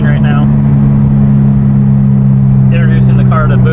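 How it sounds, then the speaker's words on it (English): A 2019 Subaru WRX STI with a 700 whp build engine brakes with a steady, droning low hum heard loud from inside, while people talk briefly over it. "He's just engine braking right now."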